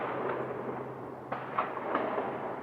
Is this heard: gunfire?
yes